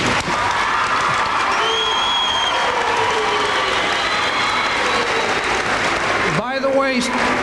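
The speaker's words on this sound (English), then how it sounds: "Give yourselves a round of applause." A graduating high school class at a 1998 commencement ceremony applauds: loud, dense, sustained clapping mixed with cheering and crowd voices, running continuously throughout.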